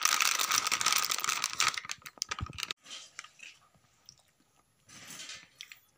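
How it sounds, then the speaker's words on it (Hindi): Crunchy Kurkure snack being eaten in a village setting: dense, close crunching and crinkling at first, easing into scattered softer chews and bites with pauses. "ए कुरकुरी खाइबा छविनाथ"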